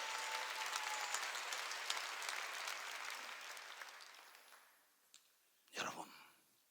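A church congregation at a Korean service claps together, loud sustained applause that fades out over several seconds, followed by a few isolated claps and a short burst of movement near the end.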